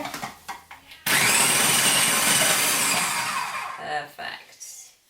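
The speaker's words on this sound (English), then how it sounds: "I like to use a food processor to do it" A food processor starts abruptly and whirs loudly for about three seconds while it chops fruit for marmalade, then winds down. Short bursts of talk come before it starts and after it stops.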